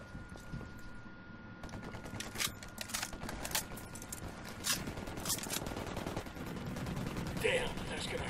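Gunfire in the tactical shooter game Ghost Recon Wildlands, sharp shots and bursts scattered through a steady noisy battle backdrop, with speech-like sound mixed in.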